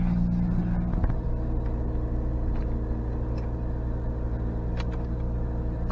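A 1988 Mazda RX-7 being driven: a steady, close engine rumble with road noise carries throughout, with a brief shift in tone near the start and no voices.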